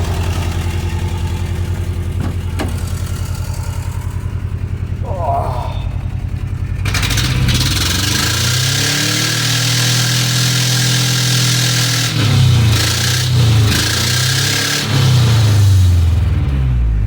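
A 1994 Toyota pickup engine with bad gas lines, first idling steadily, then revving up loudly in several surges and settling between them, recorded up close.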